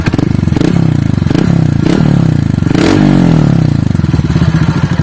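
A Honda Fan 150 motorcycle with a Gemoto Racing exhaust and 4mm kit revs hard nearby, a loud, crackling, throbbing bark with rapid popping pulses rising and falling, heard alone.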